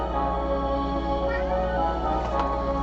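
A pet cat meows in a drawn-out, wavering call against a steady low hum, close and fairly loud, with no talk over it.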